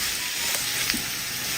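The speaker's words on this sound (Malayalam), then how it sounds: "സവാള എല്ലാം നന്നായിട്ടൊന്ന് വാടി വരട്ടെ." Sliced onions fry in a pan and are stirred now and then, making a steady broad sizzle with two brief scraping stirs near the middle and no talking.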